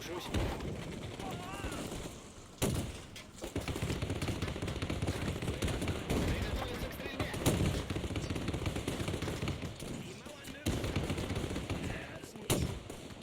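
Dense gunfire from the war game Men of War II, continuous bursts of rifle and machine-gun rounds with heavy booms at intervals, loud throughout, with someone talking over the battle.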